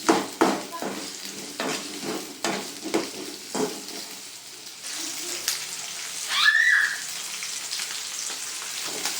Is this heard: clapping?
no